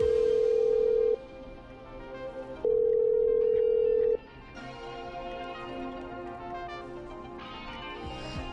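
Telephone dialing and ringing in the video game Killer Frequency: two long, loud steady tones separated by a pause, followed by fainter line noise and soft electronic clicks.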